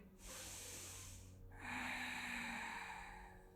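A deep breath during a yoga session, heard up close as a long airy exhale-like breath followed by a second, stronger drawn-in inhale, alone and fairly quiet.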